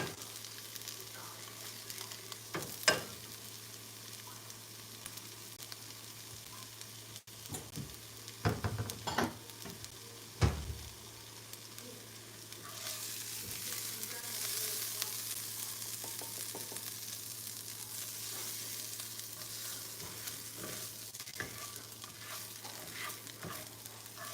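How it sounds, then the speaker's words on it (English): Eggs are stirred with mozzarella and cream cheese for an omelet, with a few sharp taps and scrapes early on, then a steady hiss like sizzling that carries on to the end, with no talking. "I'm gonna mix it with mozzarella cheese and with the cream cheese so I can start the omelet."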